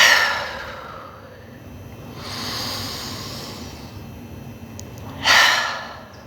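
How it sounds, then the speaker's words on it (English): Deep, slow breaths taken to settle into a calm state, two or three broad airy inhales and exhales heard close up and alone, the last one sharper and louder. "So I'm just going to start out with taking a couple of deep breaths."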